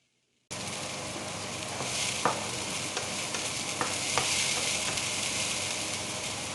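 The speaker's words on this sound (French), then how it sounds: "Je vais mettre à chauffer mon huile et je vais faire revenir mes échalotes." Steady sizzling of shallots sautéing in oil, a broad continuous hiss with a few soft clicks of a utensil stirring, close and even throughout.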